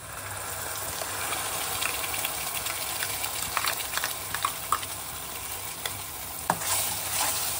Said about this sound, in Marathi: भगर आपली मिक्स करून घेऊया आपल्या वाटणामध्ये